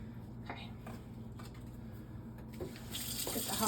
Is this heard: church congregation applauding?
no